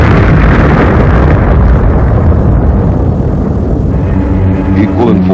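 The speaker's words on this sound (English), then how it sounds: "Trailing streams of fire, it broke into our atmosphere, and then came the explosion." An unidentified space object bursts apart on entering the atmosphere, a sustained, deep, roaring blast that fills the whole span at full loudness before slowly thinning out.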